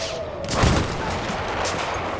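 Gunfire in a Battlefield 1 sniper fight at a fortress, a sharp loud shot cracking near the start, then a rolling echo and scattered distant shots, no talking.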